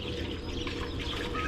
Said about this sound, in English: We're going to pour this right over the top of this straw.